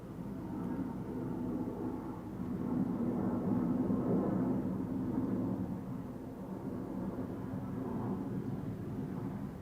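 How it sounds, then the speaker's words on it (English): A Finnair Airbus A350 airliner passes at Schiphol with a faint, distant low rumble that swells gently and fades, heard alone without talk. "that is definitely looking like Finnair. The A350 on its way to bloody Helsinki in Finland"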